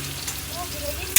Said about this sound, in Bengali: এবার পেঁয়াজ ভাজা হচ্ছে